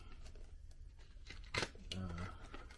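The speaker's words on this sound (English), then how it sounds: "First we gotta open this with the X-Acto knife" A short sharp tearing rasp of an X-Acto knife slicing through packing tape on a cardboard box, followed by rustling and crinkling of plastic bag packaging, with a voice talking nearby.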